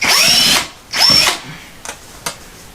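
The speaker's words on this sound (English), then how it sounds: "so I'm gonna go ahead and pull out the rest of these screws" A DeWalt cordless power drill backs screws out of a wooden crate panel: two loud, close whirring bursts, followed by a couple of short clicks and knocks.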